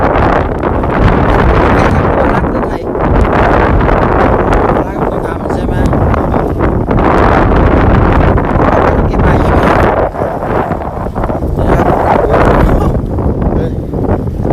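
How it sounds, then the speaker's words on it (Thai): Strong, continuous wind roaring and buffeting against the microphone at Lam Takhong while fishing, loud and unbroken throughout. "ต้องบอกว่านี่คือลมแรงเลยใช่ไหม"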